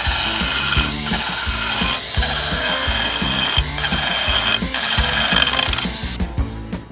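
Aggressive rotary sanding burr carving a bandsawn wood block, a steady buzzing whine with repeated grinding bursts as the burr bites into the wood, loud and close with no talk.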